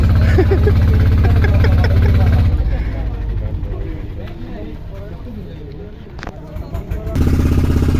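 A speedboat engine idles steadily and loudly close by at the Teknaf speedboat jetty, its low rumble continuing through the whole stretch, with voices talking over it.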